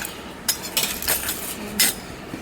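A metal spoon clinks and scrapes in a cooking pot as spices such as chilli, pepper, cinnamon, fennel, cumin, poppy seeds and dal are stirred with mutton, giving a few sharp separate knocks over a low background.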